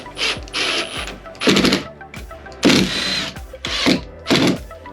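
A power driver whirs in short repeated bursts, driving screws to mount a ceiling bracket for a three-blade ceiling fan. About six loud, close ratcheting runs are separated by brief pauses, with no talking.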